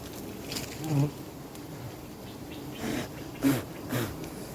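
Giant honeybees swarming around a hive being harvested in the rain, a buzzing drone with several louder swells as insects pass near, no talk.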